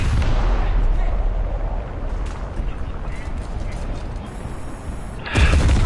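Anti-aircraft guns fire in War Thunder as a continuous rapid rattle of shots blended into heavy rumble, loud and sustained throughout, with a sharper burst near the end.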